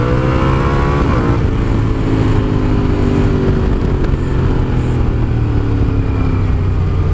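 A Suzuki SV650S motorcycle, restricted to 47bhp, accelerates steadily in second gear from about 30 mph, its V-twin engine droning loud and close with rising pitch and constant wind rush throughout.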